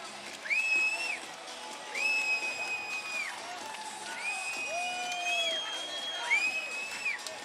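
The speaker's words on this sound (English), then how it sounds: "The crowd is going berserk as the Icemen put this one on ice" A hockey crowd at an ECHL playoff game between the Jacksonville Icemen and Greenville Swamp Rabbits roars after a late Icemen goal, with sustained cheering and whoops under repeated bright whistle-like tones that recur every second or so.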